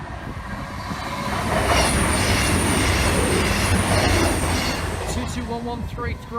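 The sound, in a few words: train passing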